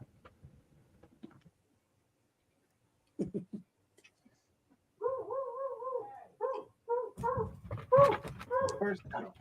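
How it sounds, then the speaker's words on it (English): A dog barks in short bursts, then lets out whining, whimpering yelps in a rising run of calls, with a person talking in between. "All I hear when I hear a dog barking like that is"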